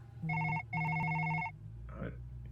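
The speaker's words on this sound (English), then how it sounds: "Your phone is ringing." A telephone ringing nearby, two bright electronic ring bursts in quick succession, followed by a short muffled rustle and quiet room tone.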